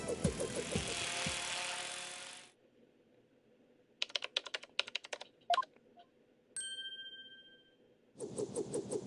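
Keys clatter on a computer keyboard in the video game Spirit of Justice, a quick burst of separate clicks between stretches of music and a short chime, with no talking.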